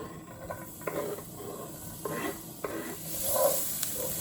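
Ginger, garlic, onions and chillies sizzling in hot oil, a close, steady crackle with intermittent stirring clatter and scraping in the pan, no talk.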